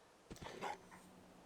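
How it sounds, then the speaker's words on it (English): A dog in the video game Fallout 4 gives a short, soft whimpering cry, a quick couple of faint yelps over quiet background ambience. "Oh, there's the dog."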